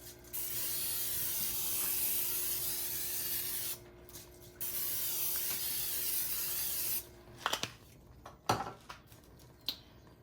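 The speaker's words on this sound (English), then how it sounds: "non-stick spray." Non-stick cooking spray hissing onto a griddle in two long bursts, loud and close, followed by a few light clinks and taps.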